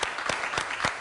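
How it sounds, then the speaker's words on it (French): An audience claps together at a steady, regular rhythm, each clap sharp and distinct in a short burst. "Oh, ça s'applaudit,"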